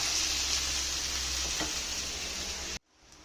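Okra cooking uncovered in an open pan gives a dense, even sizzle with a soft stir near the middle, then cuts off abruptly, leaving a faint quiet hiss; no one speaks.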